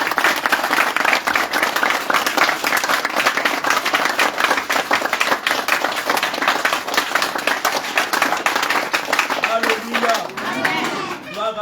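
A church congregation bursts into sustained applause acclaiming God for the life of pastor Nicolas, a loud dense wash of clapping that carries on unbroken for several seconds, with voices rising and cheering near the end.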